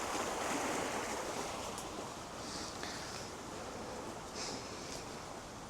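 A stream in the woods flows steadily and faintly throughout, a gentle broadband wash with occasional slight swells and no voices.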